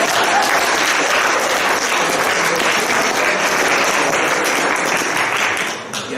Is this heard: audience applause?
yes